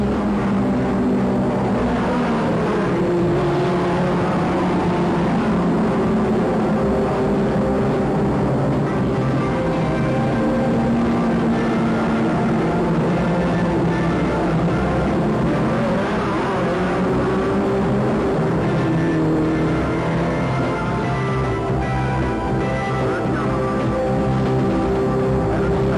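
Saloon cars race at a 1986 Dunedin street circuit, an A40 Farina leading Minis and a Jaguar, heard as a steady, loud wash of engine roar with shifting revving tones throughout and no voices.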